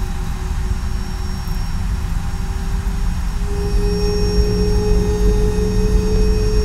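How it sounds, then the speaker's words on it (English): Inside an Airbus A320neo cabin in a flight simulator sound pack, a steady engine whine holds a thin high tone that steps up slightly midway, over a constant low rumble of jet engine noise. "That whine you hear in the cabin."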